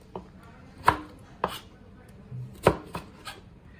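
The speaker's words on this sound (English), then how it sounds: "So we need to cut the lemons like this, about 8 pieces of one lemon" A knife chops lemons into pieces for a lemon and chilli pickle: a handful of sharp, separate cuts in an uneven rhythm, close and fairly loud over a quiet background.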